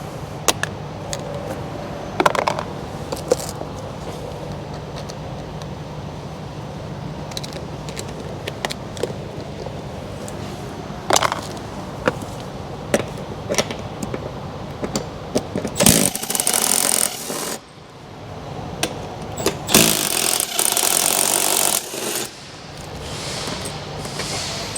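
A power tool drives out the seat bolts inside a 2023 Ford Tremor, giving loud bursts of whirring that alternate with clanks and handling noise in the cab.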